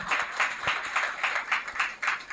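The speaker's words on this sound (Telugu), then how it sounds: "అందరూ చప్పట్లు కొట్టి వారిని ఎంకరేజ్ చేద్దాము" A church congregation at a silver jubilee celebration claps in a steady, evenly spaced rhythm, about eight beats, moderately faint and with no talk.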